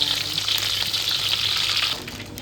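Garlic and shallots are sautéed in a pan for crab cooking, giving a brief, bright, continuous sizzle close up that fades slightly at the end.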